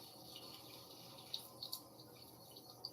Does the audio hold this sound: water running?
yes